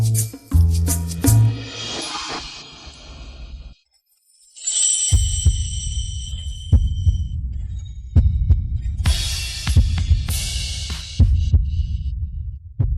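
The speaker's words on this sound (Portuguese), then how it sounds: "Maldito coração, pare de bater. Meu batimento cardíaco. Por que está tão rápido?" A fast, steady heartbeat thumps in a drama scene as a heavy, booming low pulse. It follows a short burst of other sounds and a brief silence, then repeats loudly and alone.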